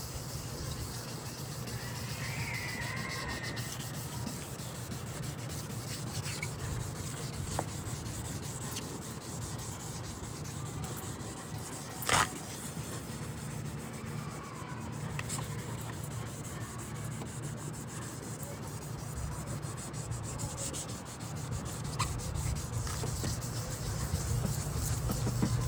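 Sandpaper rubbed by hand over a car headlight lens during restoration, a continuous soft gritty scraping with a steady back-and-forth texture, close and fairly quiet, with faint background hum.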